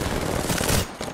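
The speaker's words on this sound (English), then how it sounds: "Is that a Kraber? Did I hear a Kraber?" Gunfire in an Apex Legends match, a Kraber sniper rifle among it: dense, loud automatic-sounding shots crackle continuously for most of a second before dropping off, with a few fainter bursts trailing after.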